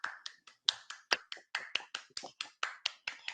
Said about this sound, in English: I'm going to give you a wee round of applause.